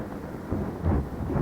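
Low, rolling thunder from storm clouds over dry village farmland, a continuous deep rumble that swells briefly, loud and close, with no voices.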